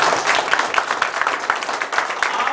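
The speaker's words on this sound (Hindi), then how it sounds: "इनके लिए जोरदार ताली बजाइए।" Audience applause at a mobile phone repair training institute event fills the room with steady, dense clapping that holds at an even level throughout.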